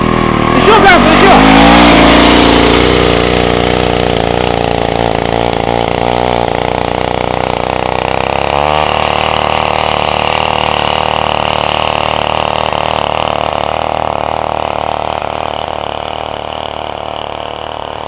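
A homemade snowmobile built from a motor cultivator revs its small engine loud and close, throttle rising and wavering with tone shifts before settling into a steady drone that fades slightly at the end, with people talking over it.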